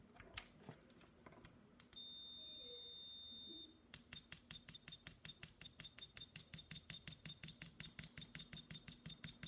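A steady electronic buzzer tone from a clamp meter's continuity test for about two seconds, then a rapid series of short, evenly spaced beeps, with clicks at the start.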